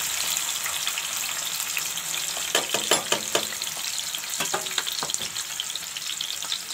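Tomatoes frying in hot mustard oil for a beef chutney give a steady close sizzle with brief crackling spatters clustered in the middle, with no voices.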